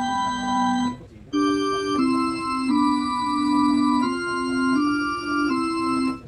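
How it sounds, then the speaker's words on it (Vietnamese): A sustained organ voice on a digital keyboard holds steady chords that change every second or so, with a short pause near the start; no talking. "Đây là tiếng organ."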